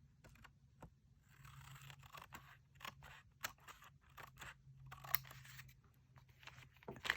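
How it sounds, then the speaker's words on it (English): Scissors snip through material in a quiet indoor setting. The cuts come as a series of faint, close, crisp clicks at an uneven pace, with no talking. "Actually, I want to cut that off just a little bit more."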